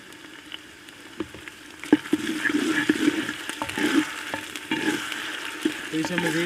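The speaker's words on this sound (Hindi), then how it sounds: "प्याज को गोल्डन ब्राउन होने तक फ्राई कर लेंगे।" Onions frying in hot ghee for a village-style chicken daal mash, a bubbling sizzle that grows louder after the first two seconds, with stirring clinks and scrapes throughout.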